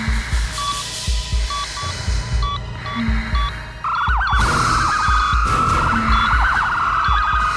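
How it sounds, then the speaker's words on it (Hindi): An alarm sounds indoors in a repeating electronic pattern, its steady tones joined midway by a loud, warbling siren-like wail that carries through to the end, over a background of low rumbling. "ये अलार्म क्यों बज रहा है?"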